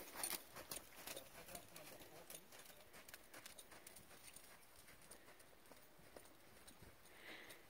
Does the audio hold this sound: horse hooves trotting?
yes